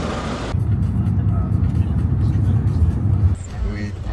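Inside a van riding to a villa in the Philippine islands, the engine and road noise make a steady low rumble, with people talking now and then.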